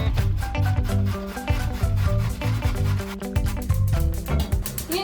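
Beet and carrot being grated for Ukrainian borscht, heard as quick rhythmic rasping strokes against a grater, close and steady, with no voices.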